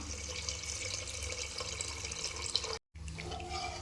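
Water is poured steadily into a cooking pot while chicken biryani is being made, a continuous close splashing stream with one very brief break before it resumes, and no talking.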